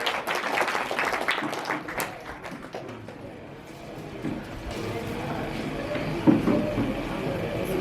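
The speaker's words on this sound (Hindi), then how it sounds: "जोरदार तालियों के साथ स्वागत करें।" At a village poetry gathering in Digrauta, a crowd claps to welcome a doctor to the stage: a burst of sharp claps for the first couple of seconds, then a fading patter under room murmur and faint voices.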